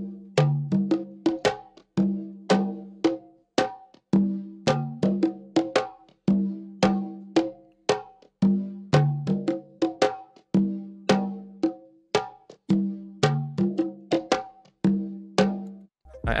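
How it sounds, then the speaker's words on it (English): Bouncy percussion loop for a soul sample beat, with crisp pitched hits that repeat in a tight, steady groove, loud and close throughout with no voices. "Then for some bounce, I added percussion loop."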